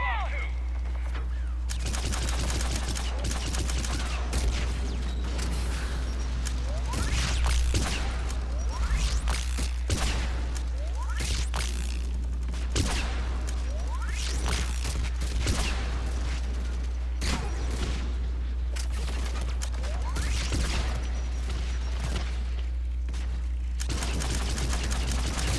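Pistol gunfire in the video game Mass Effect 3, sharp repeated shots in irregular bursts over a constant low game hum and battle noise, with a voice talking at times.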